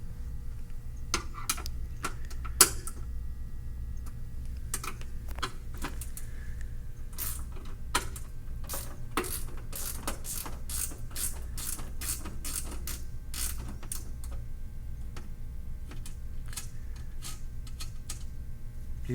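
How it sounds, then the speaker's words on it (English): A wrench works on screws underneath a store end cap, giving a long run of sharp metallic clicks and ratcheting ticks. They come in quick irregular bursts, close and fairly quiet, over a low steady hum. "So underneath the end cap there are two screws, one to the left, one to the right, which you will have to undo."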